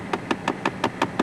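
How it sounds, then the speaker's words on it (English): A faulty blend door actuator knocks from behind the glove box of a 2011 Chrysler 200, seven evenly spaced, sharp plastic taps in quick rhythmic succession, fairly close and clear. "you hear that noise from coming behind the glove box, and that's what I thought it was. That's a blend door actuator."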